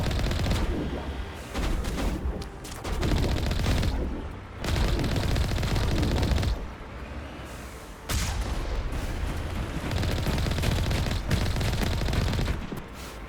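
Enemies firing pistols at a tank in Mass Effect, with dense loud volleys of gunfire and booms in long stretches, broken by brief quieter gaps.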